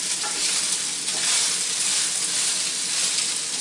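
Garlic frying in hot oil for prawn pasta, a dense, loud, continuous sizzle and crackle with stirring going on throughout.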